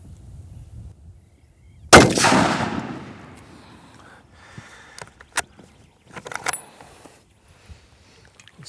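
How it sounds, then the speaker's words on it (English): A rifle fires once at a target with a sharp, loud crack followed by a long rolling echo across open ground, then scattered faint clicks and knocks in an otherwise quiet outdoor setting. "Just had two shots."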